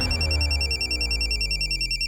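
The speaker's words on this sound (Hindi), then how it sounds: "लो फोन लो।" A mobile phone ringtone rings repeatedly in a steady pulsing electronic pattern, fairly clear and close, with no one talking over it.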